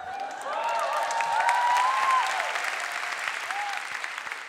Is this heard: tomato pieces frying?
no